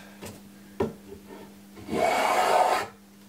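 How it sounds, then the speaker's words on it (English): A spokeshave pulls one long rasping stroke across the wooden handle of an axe, preceded by a couple of light knocks, against a steady low hum. "listen to the sound of the spoke shave"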